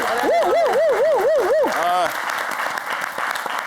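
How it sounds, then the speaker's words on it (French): Studio audience applause on a television game show runs under a loud, warbling electronic jingle tone that rises and falls rhythmically, then fades while the clapping carries on alone. "Applaudissez Jean-Michel."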